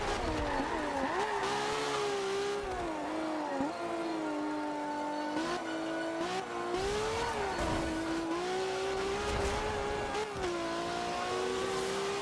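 A car in a driving video game runs continuously through a corner, its engine droning and shifting pitch as it slows and picks up again, with faint tire noise and no talk.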